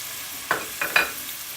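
Diced ham dropped into a hot pot and stirred while making arroz con gandules, with a few short sizzling scrapes from the spoon over a quiet background.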